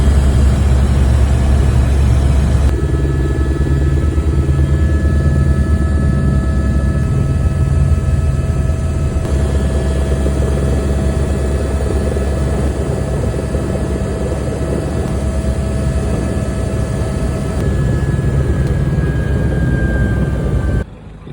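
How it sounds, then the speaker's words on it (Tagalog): A helicopter in flight in Greenland, heard from inside the cabin as a loud, continuous rotor and engine drone with steady whining tones that shift slightly over about twenty seconds. "Ito yung unang sakay ko, yung helicopter na yan."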